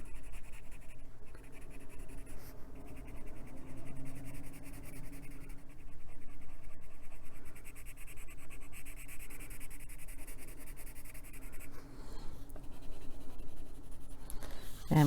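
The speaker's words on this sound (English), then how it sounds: "Putting a little more pressure on the pencil." Colored pencil shading and blending on paper, a steady close scratchy rubbing that runs continuously with firm pressure over a low background hum.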